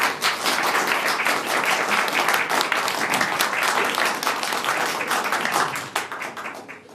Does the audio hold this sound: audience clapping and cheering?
yes